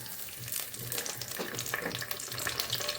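Two bay leaves dropped into hot mustard oil in a pan for a Bengali fish head curry, a dense, steady crackling sizzle that stays loud and close throughout.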